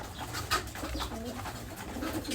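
Young pigeons (squabs from a breeder pair) coo softly in a loft, with low, continuous murmuring coos close by and no talk.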